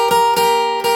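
Three quick strummed chords ring out on an acoustic guitar, each a sharp attack with sustained tones in between, clear and close.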